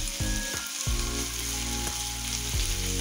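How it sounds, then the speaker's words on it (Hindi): Ginger garlic paste fries with onions in a hot pan for masala puri, sizzling steadily and loudly while a spoon scrapes and stirs in regular strokes. "अब मैं थोड़ा इसमें अदरक लहसुन का पेस्ट डालूंगी, बिल्कुल थोड़ा सा, 1/2 चम्मच। इसे अच्छे से भून लेंगे।"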